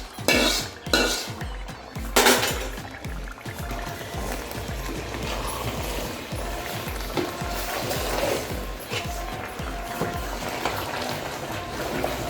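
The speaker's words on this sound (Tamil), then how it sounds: "ரெண்டையும் நல்லா வறுத்துட்டு சூடு பறக்க நெய்யில வறுத்த முந்திரி பருப்பு," A spoon stirs and scrapes cashews and white sesame frying in ghee, with steady metallic clinks against the pan and a light sizzle running beneath, a few sharper knocks near the start.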